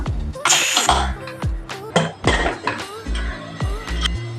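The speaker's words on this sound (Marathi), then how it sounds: "कुकर थंड झालेला आहे आता आपण उघडून बघूया भात तयार आहे का" Metal clanks and clinks of a cooled pressure cooker lid being handled and opened over cooked coconut rice, a series of sharp knocks and scrapes close by.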